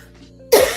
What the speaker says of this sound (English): Stupid cough.